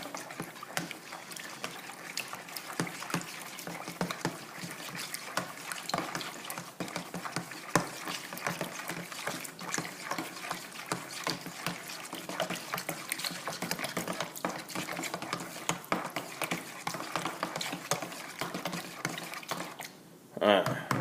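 A regular spoon stirs French bread dough with honey in a bowl, making continuous wet scraping and sloshing sounds with steady rhythmic strokes, close and moderately loud, with someone speaking over part of it.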